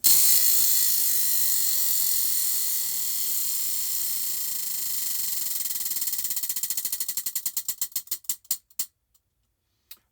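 A prize wheel spins with a rapid stream of ratcheting clicks. The clicks slow and spread farther apart until the wheel stops with a few final ticks, then silence.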